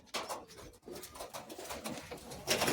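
Small Madrasi pigeons cooing in soft, repeated throaty calls, close by, with a rustle of movement and no talking.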